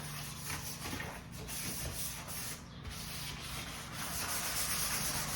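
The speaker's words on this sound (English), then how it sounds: "these sanding pads are great because it can conform to the curvature" Hand sanding a red door's curved inside panel with flexible sanding pads, a steady continuous scratchy rubbing that stays close and fairly loud throughout, with brief dips in the strokes.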